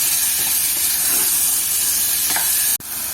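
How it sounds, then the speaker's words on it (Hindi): Boneless chicken frying on a high flame in a pan, a loud, dense, continuous sizzle with faint stirring scrapes, close up, cut off by a brief break near the end. "इसको मैं हाई फ्लेम पे 2 से 3 मिनट के लिए फ्राई करूँगी"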